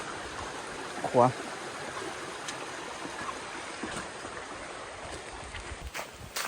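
Water rushes steadily from a waterfall and stream near a rural Thai hometown, a continuous broadband wash that fills the whole stretch, with a brief spoken word near the start.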